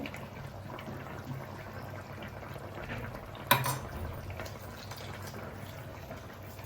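Grass carp fish curry with tamarind bubbles in a pot at a low, steady simmer. A single metallic clank from the utensils breaks in halfway through.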